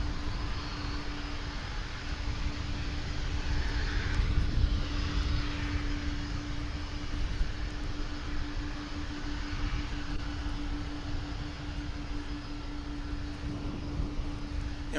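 MD jet airliner engines revving up at DFW International Airport, a steady broadband roar with a constant whine, holding fairly even in loudness throughout and swelling slightly partway through.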